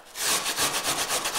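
Rhythmic scraping strokes of a hand tool carving a brown trout taxidermy form, steady back-and-forth passes, close and fairly loud with no talking.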